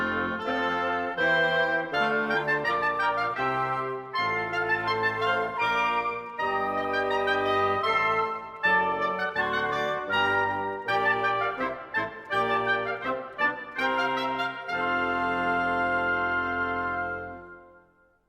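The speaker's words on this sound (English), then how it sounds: "Together, the woodwind section sounds like this." An orchestra's woodwind section plays together in a continuous, full ensemble passage with blended sustained tones and moving lines, steady and fairly quiet, fading out at the end.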